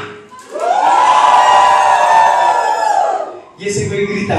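A circus audience at the Circo Hermanos Rosados de la Colina evening show shouts and cheers in one loud, sustained roar that fills most of the moment, then breaks off briefly before the crowd noise picks up again.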